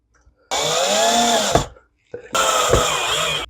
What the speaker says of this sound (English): Turn the clutch on my screw gun down so I don't break anything